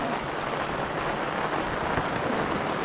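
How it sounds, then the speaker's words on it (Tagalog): Heavy rain pours down steadily in a dense, loud roar with no pauses, close and enveloping, with no voices. "Lumalakas ang ulan guys."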